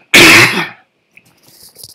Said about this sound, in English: I really have a sore throat, so it's kind of itchy, and I cough all the time.